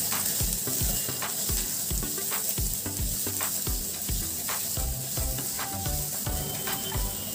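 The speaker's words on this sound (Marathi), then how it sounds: "आता मी यामध्ये एक कांदा घेतलेला आहे, तो देखील बारीक चिरलेला आहे. हे देखील आपण व्यवस्थित छान परतून घेणार आहोत." Finely chopped onion sautéed in a pan, with a continuous bright sizzle and repeated soft scraping strokes of stirring in a steady rhythm, close and moderately loud.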